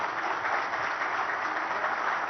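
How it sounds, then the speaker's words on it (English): Applause from the audience at a national news conclave, a steady, moderately loud clapping texture that holds evenly throughout with no voices over it. "Let's have a proper round of applause for Himanta Biswa Sarma."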